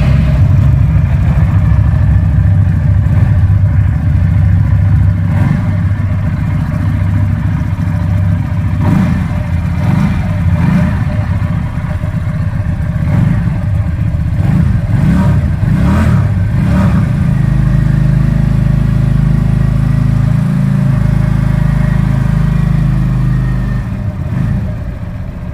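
A Keeway V302C, a 300cc twin-cylinder cruiser motorcycle, runs steadily and loudly up close, with a deep, throbbing rumble and a few light revs partway through.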